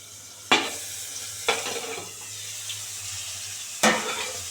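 Rohu fish head frying with cabbage in an uncovered pan: a constant sizzle with three sharp clanks of a utensil against the pan, close and clear, no talking.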